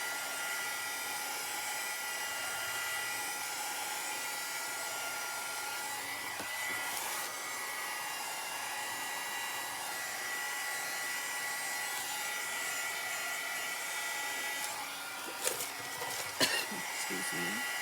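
A hair dryer blows steadily on spackling over an old canvas, a constant close airy whir, with a cough and a few brief knocks near the end.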